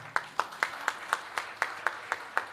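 Steady, evenly spaced hand claps at a Bhagavat Katha religious discourse, about four sharp claps per second, close and distinct over a quiet room.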